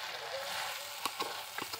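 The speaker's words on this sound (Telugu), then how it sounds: "ఒకసారి కలుపుదాం, అడుగు పడుతున్నట్టుంది." A spoon scrapes and clicks through a thick broad bean curry in a pan, three or four quick soft strokes over a faint low sizzle, close and quiet, with no voices.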